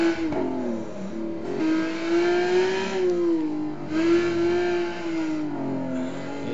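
A Ferrari F550 in a racing simulator on the Nürburgring, its engine droning steadily with a rising and falling pitch as power is fed in through corners and down a straight, loud and continuous with no talking.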